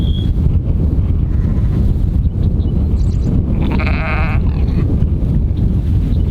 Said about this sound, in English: The sheep are coming now.